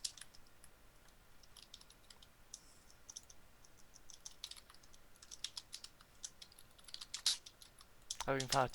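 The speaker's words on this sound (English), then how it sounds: "I hope everyone likes my sound of my keyboard. It's so freaking loud." Rapid, loud clicking of a computer keyboard being typed on, in irregular bursts of keystrokes close to the microphone, with a denser flurry near the end and no talking.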